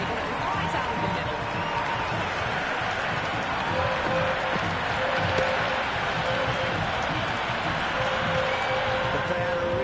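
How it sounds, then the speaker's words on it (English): A large, raucous cricket crowd roars continuously at a match, a dense, steady wall of cheering and noise with no breaks. "The crowd are really getting quite raucous."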